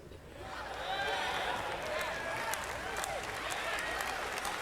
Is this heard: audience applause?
yes